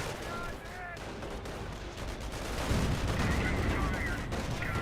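A Sherman tank firing amid gunfire during a Company of Heroes battle: a dense, continuous rumble of shots and blasts that swells louder halfway through, with a voice running over the top.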